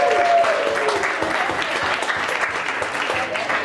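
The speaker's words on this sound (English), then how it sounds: "Let's give them all a round of applause." A theatre audience at a live serial performance breaks into full applause, dense continuous clapping that fills the room and holds steady from start to finish, with a faint tone briefly audible at the beginning.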